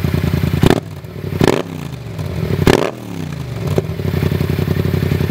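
A Yamaha FZ-07/MT-07 two-cylinder motorcycle with a side-mounted exhaust idles close by, then is revved sharply several times, each throttle blip rising and falling back to a lumpy, pulsing idle.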